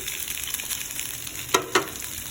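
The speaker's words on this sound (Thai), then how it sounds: "ใส่เนื้อปลาลงไปนะครับอันนี้จะเป็นปลาทอดนะครับ" Fish pieces lightly coated in flour fry in hot palm oil with a steady, soft sizzle, broken by two sharp pops close together near the end.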